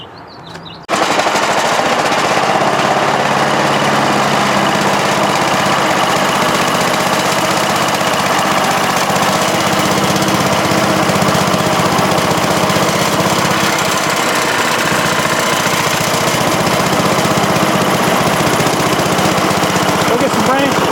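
A woodchipper's small engine, just repaired, roars continuously at close range after a brief start, loud and steady throughout with a rough, rattling drone.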